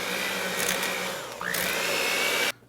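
An electric mixer whirs steadily as mascarpone and heavy cream are worked into pound cake batter, a loud continuous motor drone with a brief dip in pitch midway before it cuts off near the end.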